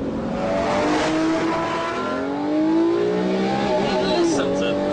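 A Lamborghini Murcielago LP640's engine rises in a loud, close revving surge with throttle blips and climbing pitch sweeps, the rasp continuous over the whole stretch while someone talks over it.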